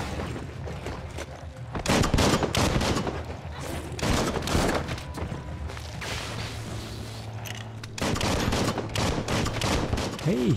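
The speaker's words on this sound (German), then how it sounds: "Hey, ich schieße auf dich." Gunfire in the Biomutant action game comes in dense bursts of rapid shots with short pauses between them, loud and close, over mechanical clanking and game sounds.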